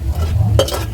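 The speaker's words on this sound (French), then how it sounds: "continuer à remuer afin d'obtenir ce que nous recherchons, c'est-à-dire des arachides sucrés et caramélisés" Sugared peanuts being stirred as they caramelize in a pan, a steady scraping sizzle with a brighter burst of stirring clatter near the end, close and continuous with no talk.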